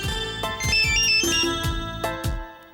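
A phone ringtone plays an incoming-call melody, a clear electronic tune of bright repeated notes, near and fairly loud, with no voices over it.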